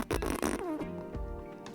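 A comedic fart sound effect: a loud, buzzy, sputtering blast that trails into a rising squeak, followed by a second, quieter rumble, with no voices.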